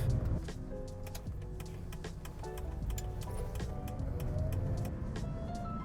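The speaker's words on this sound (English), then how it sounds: "It is running a little rough." A car engine idles a little rough, a continuous low rumble with uneven pulsing and ticking, close and fairly loud throughout.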